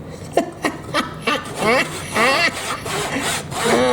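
A Japanese pull saw, a 24 TPI razor back saw, cuts a large piece of wood with short rasping strokes in an uneven rhythm. The strokes start separate, then run together into longer pulls, close and fairly loud, with a brief chuckle partway through.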